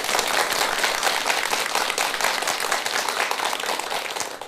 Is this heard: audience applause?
yes